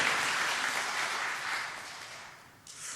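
A church congregation claps together in a dense, sustained burst of applause that gradually fades toward the end.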